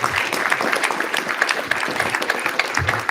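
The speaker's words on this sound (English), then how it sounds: "can everyone please put a big round of applause for our panelists?" Audience at a tech panel talk on L2 scaling gives the panelists a round of applause, a steady, moderately loud wash of many hands clapping close together with no speech on top.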